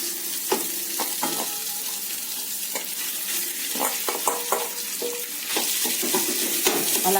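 Mashed potato masala with turmeric frying in a pan for sweet corn masala dosa, a steady close sizzle broken by repeated scraping stirs of a spoon against the pan.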